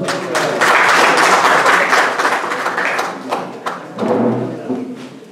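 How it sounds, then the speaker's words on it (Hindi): An audience at a mushaira poetry gathering applauds loudly to welcome a poet, with dense clapping that thins out toward the end and a few thumps mixed in. "भरपूर तालियों में इस्तकबाल कीजिए"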